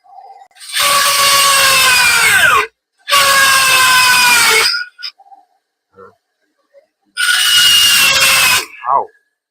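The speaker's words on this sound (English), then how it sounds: "Look at that bandsaw blade gets here." A bandsaw cuts through brass in three separate loud bursts of ringing, buzzing rasp with brief quiet gaps and small clicks between them; the blade's tone shifts near the end of each pass.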